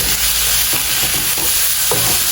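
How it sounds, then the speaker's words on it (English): Garlic sizzles and fries loudly in a pan while being stirred, a steady close hiss with soft scraping strokes of the utensil and no talking. "I'm going to stir the garlic around so that it doesn't burn."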